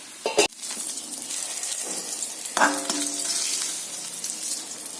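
Fried onions poured into a bubbling fish curry land with a sharp clink and splash, followed by a steady hiss of sizzling oil, close and continuous.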